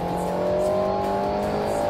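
Engine note of an Alpine A110 race car in the anime MFG, a steady high-revving drone held loud and close for under two seconds, no voices.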